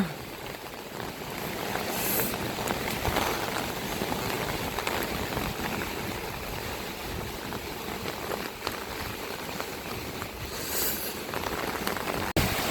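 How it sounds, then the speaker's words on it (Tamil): Heavy cyclone rain pours down in Jaffna in a dense, continuous hiss, steady throughout with no letup. "மழை எப்படி பெய்யுதுன்னு பாருங்க."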